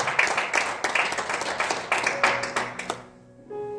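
A church congregation claps together in broad, sustained applause that fills the room, then breaks off near the end, leaving a brief quiet with a faint tone.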